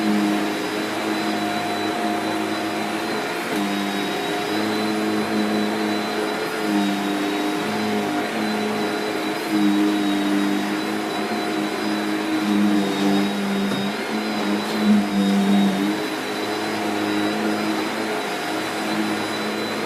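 A Shark Powered Lift Away NV681UKT upright vacuum cleaner runs steadily throughout, a loud continuous motor whine with a constant tonal hum and slight fluctuations as it is pushed, with no talking.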